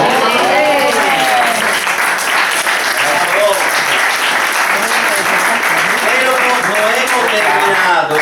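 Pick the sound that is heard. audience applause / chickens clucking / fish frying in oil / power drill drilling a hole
audience applause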